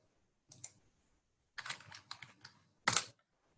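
Typing on a computer keyboard comes in three short close bursts of quick, soft key clicks separated by silence, with no talk.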